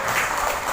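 Short burst of applause from a school crowd for a children's drum band at an Indonesian Independence Day proclamation ceremony, steady dense clapping throughout, moderately loud, with no voices over it.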